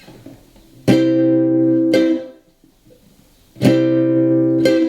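Two pairs of strummed guitar chords in a short-long Charleston rhythm, each held ringing before stopping, bright and close with no voices.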